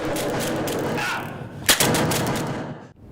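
Simulated gunfire in a police training simulator, a loud burst of rapid shots in a dense stretch, then a sharp single crack that trails off into a short silence.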